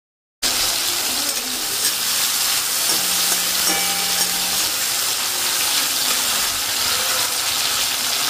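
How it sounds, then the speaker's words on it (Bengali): Malabar spinach (pui shak) cooking in a pan with salt, turmeric, green chilli and panch phoron, giving a steady, even sizzle and hiss that starts abruptly and holds at a constant level, with no talk. "পুঁই শাকটা হতে থাক, নুন হলুদ কাঁচা লঙ্কা দিয়ে পাঁচফোড়ন দিয়ে বসিয়ে দিয়ে আসলাম"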